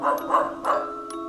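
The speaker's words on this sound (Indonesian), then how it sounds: "Dia pun menggonggong memanggil Boboiboy." A cartoon dog barks in an animated horror film, three short yipping barks in quick succession over a steady tonal hum, close and clear.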